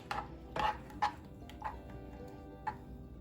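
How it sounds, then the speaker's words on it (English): A spoon clinks and scrapes against a pan while melted butter and cream cheese are stirred, giving several sharp, irregular taps close up and alone. "we're just going to stir that up a little bit right here"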